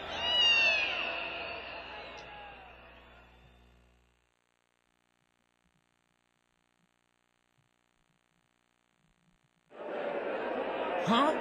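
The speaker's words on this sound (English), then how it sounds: "Huh, it's a cat." Cat meowing in the video game .hack G.U., a short cluster of meows mixed with game voices at the start, then silence before sound returns at the end.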